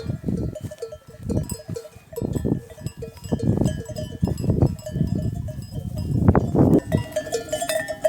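A flock of about a hundred sheep and two rams on village pasture, bleating repeatedly in overlapping calls while tinny bells clink steadily throughout, close and fairly loud.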